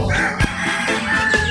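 Brooding hen clucking and crooning low among farm poultry, with a couple of short louder clucks over a steady murmur of fowl sounds.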